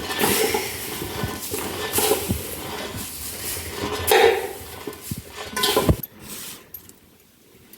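Thin poha chivda, a crisp flattened-rice snack, scraped and tipped from a pot onto a plate, giving close rustling crunches and repeated sharp metal clinks of a utensil against cookware, ending in near quiet.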